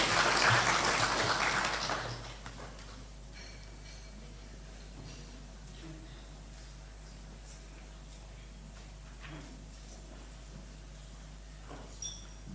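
Audience applause at a regional care-reform conference in a hall, a dense burst of clapping for about two seconds that quickly dies away to sparse scattered claps and room murmur.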